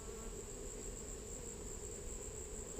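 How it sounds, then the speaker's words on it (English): Honeybees hum steadily around an open beehive during a hive inspection, a constant close buzz with a high whine layered over a low drone, faint and unbroken, with no talking. "There's a bee on me trying to sting me."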